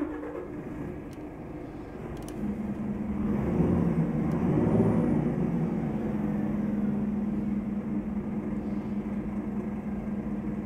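A Scania R450 truck engine in Euro Truck Simulator 2 with a sound mod idles with a low steady rumble, revving up briefly in the middle before settling back to a constant drone.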